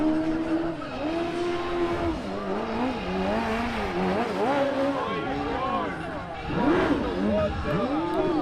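Toyota Corolla autograss race car drifting on a grass oval, engine revving and rising in loud, wavering sweeps over continuous rough noise, with voices talking over it.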